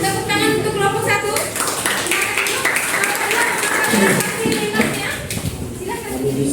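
Students in a classroom clap for a group, a ragged burst of hand claps with children's voices and chatter mixed in, uneven in rhythm and fairly close.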